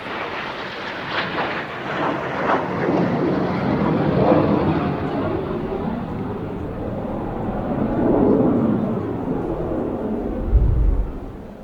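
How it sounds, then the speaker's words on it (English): A Strikemaster jet trainer flying slowly past at an Eastbourne airshow, its engine a loud, broad whine and roar that swells and fades as it passes, distant yet dominating, with a low rumble rising near the end. "Mark now reconfiguring the aircraft, coming round in very slow speed indeed, and coming into a bit of a wind there"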